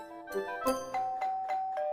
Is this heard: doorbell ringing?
yes